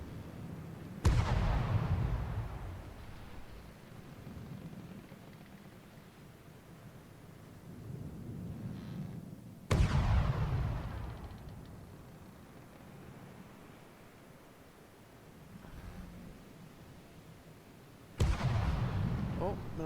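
Ship guns fire in the naval combat game From the Depths, three heavy booming blasts spaced several seconds apart. Each blast leaves a long rumbling decay, with low noisy background between the shots.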